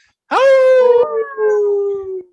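People imitate a wolf howl together in one sustained, rising then slowly falling vocal howl with a short break near the end, loud and close, with no talk over it.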